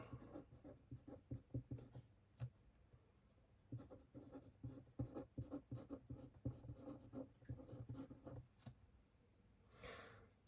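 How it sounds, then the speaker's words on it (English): Pen or pencil writing notes by hand on paper, close and quiet, with steady bursts of scratchy strokes and short pauses between words, no talking. "Let's just write that here for a laugh."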